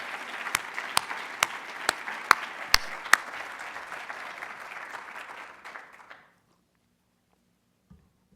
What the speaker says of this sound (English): And now let's give a full round of applause to all new faculty